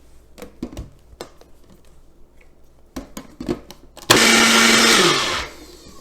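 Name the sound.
blender blending cashew chipotle ranch sauce with lime juice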